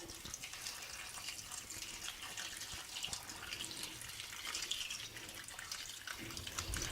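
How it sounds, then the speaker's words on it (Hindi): Water is poured into a pot of chopped beans, raw papaya, eggplant, radish and pumpkin for Puri temple-style Odia dalma, a faint, continuous splashing trickle with no talk. "ये सब डालने के बाद हम इसमें डालेंगे पानी।"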